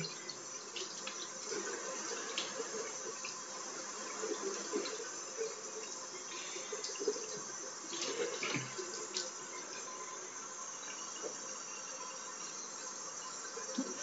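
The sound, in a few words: tap water running over make-up brushes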